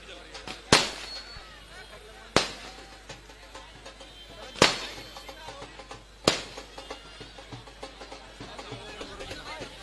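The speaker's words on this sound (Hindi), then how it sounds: "चलो आतिशबाजी भी हो चुकी, आतिशबाजी कंप्लीट हुई।" Fireworks and firecrackers go off at a welcome celebration in Bharat Colony: four sharp, loud bangs a couple of seconds apart over a low background of crowd noise and chatter.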